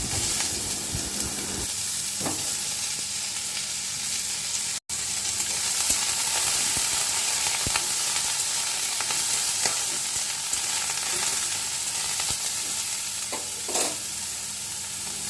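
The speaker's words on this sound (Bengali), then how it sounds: "পটলটা দেওয়ার পরে 2-3 বার নাড়াচাড়া করার পরে আমি দুটো কাঁচা লঙ্কা আর গাজরটা দিয়ে দিলাম।" Pointed gourd and green chilies frying in hot oil, a loud continuous sizzle close by with repeated stirring scrapes throughout.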